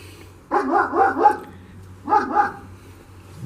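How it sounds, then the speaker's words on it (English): A dog barks near a backyard shed, two short clusters of barks about a second apart, fairly clear over a low steady hum. "Dog on the other side barking."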